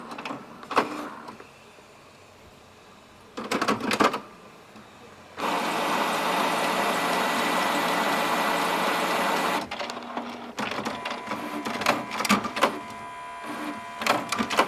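A Canon Maxify MB2020 printer powering up and initialising, giving bursts of mechanical whirring and clicking separated by quieter pauses, then a long steady motor hum before more stuttering mechanism noise, close and alone.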